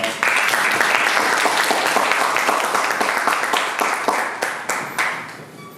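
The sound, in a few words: audience applause welcoming a speaker at a forum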